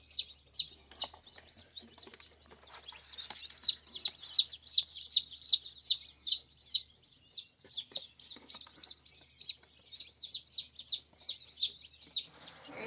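Newly hatched mixed barnyard chicks peep from a cabinet incubator, their high chirps in quick, continuous, overlapping runs, fairly close and clear over a quiet background.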